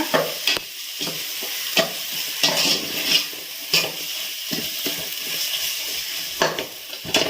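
A spatula scrapes and stirs chilli powder around a frying pan in repeated close strokes over a light sizzle, with no voices.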